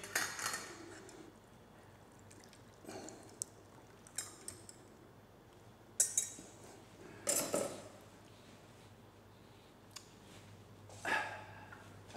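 A rubber spatula scrapes around a saucepan of butter-emulsified sauce, giving intermittent soft scrapes and light clinks, close by and fairly quiet, spaced a second or two apart.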